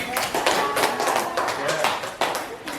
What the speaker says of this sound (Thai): ปรบมือให้เพื่อนหน่อย